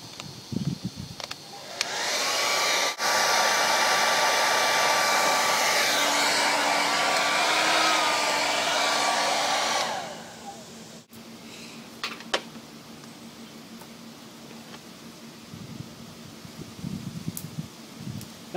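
A handheld hair dryer blowing hot air onto a car body dent, a steady loud whine and rush of air lasting about eight seconds before switching off, followed by quieter handling noises.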